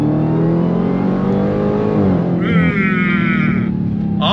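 A supercharged Dodge Challenger Super Stock with a TorqueFlite automatic roars steadily at full throttle, its loud engine note holding a strong, even drone with a brief whine-like layer near the end.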